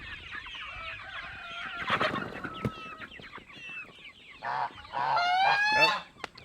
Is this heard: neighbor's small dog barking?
no